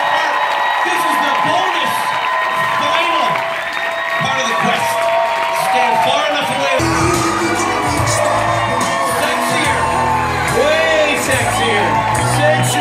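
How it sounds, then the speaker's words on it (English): Cruise ship audience aboard Allure of the Seas clapping and cheering loudly for a team during a game show, a dense sustained crowd roar with whoops and shouts and a voice talking over it. "give them a big round of applause because this is the last"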